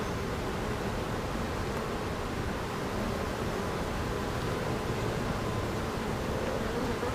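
Honey bees buzz steadily around an open hive during an inspection, a dense, continuous drone at close range with no talking.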